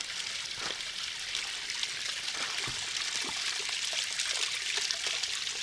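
Shallow water trickles and splashes over rocks at a small waterfall along the Switzer Falls hiking trail, low in flow; a steady, soft hiss of running water with occasional drips, no voices.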